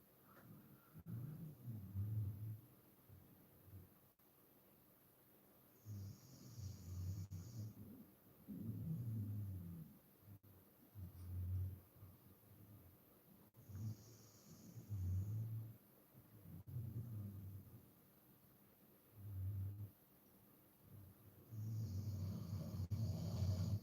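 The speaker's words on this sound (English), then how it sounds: "That's my dog snoring." An Australian dingo-type dog snores nearby with slow, regular rumbling breaths repeating about every few seconds, faint and low in a quiet room.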